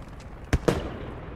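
Two sharp, loud impact-grenade blasts in a video game simulator, about a tenth of a second apart, the second with a longer rumbling tail that fades out.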